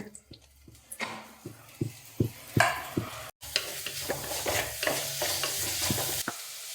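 Onions fry in a pan for a prawn and drumstick curry, starting with distinct close stirring knocks and scrapes, then settling into a steady sizzle with continued stirring that fades near the end.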